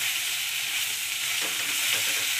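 Raw mango pieces sautéed with salt in a pan, giving a steady, close sizzle throughout with faint stirring scrapes near the end.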